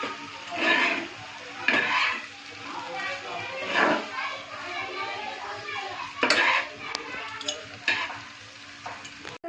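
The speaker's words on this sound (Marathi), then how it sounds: "हे बघा आपले नूडल्स सारे चांगले फ्राय करून झालेले." Schezwan noodles with sauces and salt are stir-fried in a pan, with loud scraping and tossing bursts over a running sizzle, close by, while voices including a child's are heard in the background.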